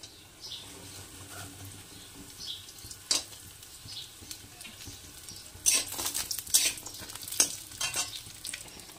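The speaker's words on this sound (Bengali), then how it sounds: "কড়াইটা গরম হলে দিয়ে দেব বেশ একটু পরিমাণে সরিষার তেল, দিয়ে বেশ কয়েকটা বড়ি ভেজে নেব।" Bori lentil dumplings fry in mustard oil in a wok, giving a quiet crackling sizzle with sharper spits and bursts of spattering toward the end.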